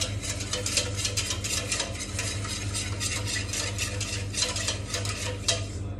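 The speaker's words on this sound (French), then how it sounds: "grâce à notre ustensile magique, le fouet" A wire whisk beats red wine vinegar into a vinaigrette, a steady run of quick, close scraping strokes with a faint low hum beneath, no voices.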